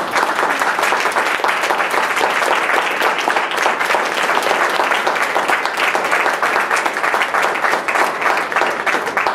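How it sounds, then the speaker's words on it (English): An audience at a school district board meeting claps steadily and evenly throughout, a dense sustained round of applause from a room full of people with no clear speech over it. "Yes, let's applaud."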